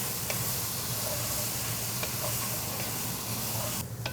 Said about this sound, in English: So we're gonna add to the pot our beans, our garlic, and our chicken. Give this a good stir.